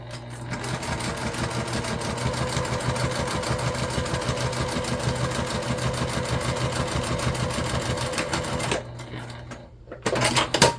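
A sewing machine runs a quarter-inch seam on a mini backpack with a fast, steady rapid-fire stitching rhythm at close range, stopping briefly near the end before a few more stitches.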